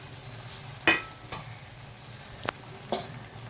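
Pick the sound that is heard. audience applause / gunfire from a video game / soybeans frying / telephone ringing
soybeans frying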